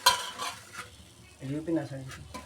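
Onion, ginger-garlic, turmeric, salt and chilli masala fry in a pan for fish curry, a brief close sizzle with stirring and faint utensil clinks, fading midway and then returning.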